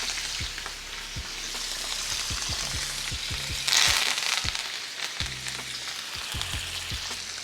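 Butter, garlic and herbs sizzle in a skillet beside a seared steak, a steady moderate frying hiss dotted with scattered spatula or pan knocks and a short louder sputtering burst near the middle, without speech.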